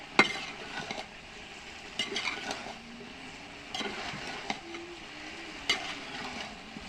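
A pot of brinjal, potato and cauliflower curry cooking at lunchtime, with a soft simmering hiss under intermittent sharp clinks and scrapes of a spoon against the pan, fairly quiet and close.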